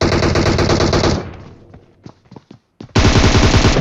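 Video game gunfire rattles in loud rapid automatic bursts, breaks off into scattered single shots and quiet, then resumes as another heavy burst.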